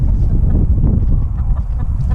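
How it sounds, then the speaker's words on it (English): A loud, close cluster of poultry clucking and squawking over each other, continuous and busy. "I have chickens"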